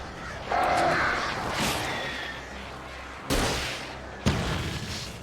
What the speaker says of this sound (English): A couple of them got in here before I blocked the chimney. This isn't normal. These birds are weird.